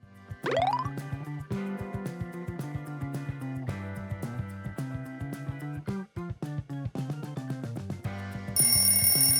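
Crazy Art audio logo jingle, a playful tune opening with a rising swoop into bouncy, plucked bell-like notes over a steady bass pulse, finishing on a bright sparkling chime, with no one talking.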